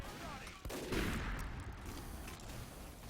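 Video game gunfire, a sniper rifle fired from inside a map room during a competitive scrim, comes as a sharp crack followed by a burst of rapid shots under busy game noise.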